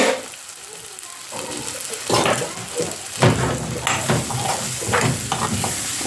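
Minced meat keema frying in a pan for samosa filling, a loud close sizzle with repeated stirring scrapes and clatter, with brief talk partway through.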